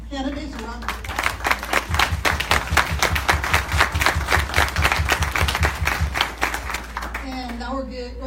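Audience at a city council candidate forum in Fox Hills, Culver City, giving the candidates a round of applause, lively close clapping that swells, holds steady and then fades, with a voice speaking before and after.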